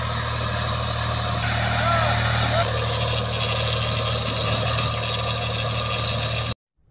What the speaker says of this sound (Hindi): यहाँ पे अभी फिलहाल चल रहा है ट्रैक्टर